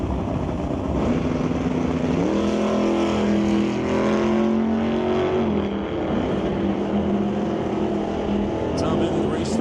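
Drag race cars at a Pro Race event roar down the strip with a rising engine whine that shifts pitch as they accelerate, loud and continuous under a commentator's voice.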